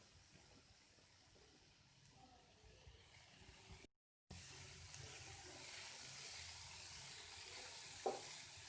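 Radish lightly frying in a little oil in a pan for mooli paratha, giving a steady soft sizzle with faint stirring, briefly cut off midway, then continuing with a small clatter near the end.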